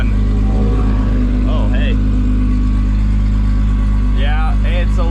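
A V12 car engine idles steadily at a Cars and Coffee meet on a drizzly day, a low constant rumble running through the whole clip while people talk over it nearby.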